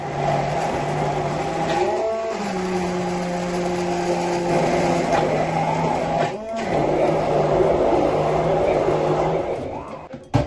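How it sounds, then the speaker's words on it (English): A kitchen blender grinds fresh tomatoes, garlic, ginger and pepper for a tomato stew, its motor whirring loudly and steadily with brief pauses and restarts, and a voice talking over it at times. "let's now go to grind fresh tomatoes, garlic, ginger, and fresh pepper"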